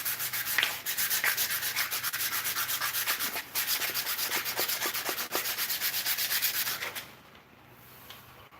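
A pine wood handle is sanded by hand with steady rhythmic back-and-forth strokes, loud and close, a brief pause midway, then the rasping stops near the end.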